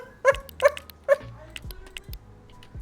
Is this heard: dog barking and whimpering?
yes